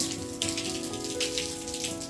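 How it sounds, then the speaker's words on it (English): Steady rain patters on a surface nearby during home cooking of vegetable oothappam, a constant hiss with soft individual drops and no voices. "can you hear the rain"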